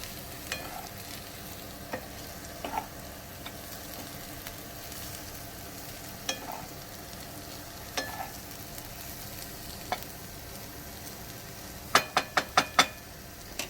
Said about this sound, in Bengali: আলুটা ভাজা হয়ে গেছে এর মধ্যে ডিমটা দিয়ে দিয়েছি এবার মিশিয়ে নিচ্ছি একটু ভালো করে